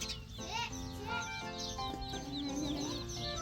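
Many small chicks cheep in high, overlapping peeps against a constant farmyard background, with clucks mixed in.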